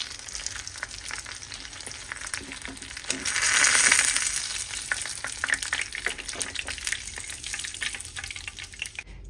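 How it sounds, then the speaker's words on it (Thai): Thin battered crab stick sheets deep-frying in hot oil give a steady, close crackling sizzle that swells briefly louder midway, with light clinks from utensils throughout and no talk. "แล้วก็ทอดต่อไปจนแผ่นแป้งที่เราทำเอาไว้หมดนะค"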